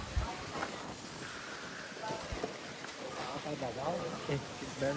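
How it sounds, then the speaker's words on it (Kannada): Strong gusting wind outdoors in Goa, a steady broadband roar that swells and buffets the microphone for the whole stretch, with a person's voice faintly under it. "ಒಂದೇ ಸಲ ವಿಂಡ್ ಬಂತು ಜಾಸ್ತಿ ದೊಡ್ಡದು."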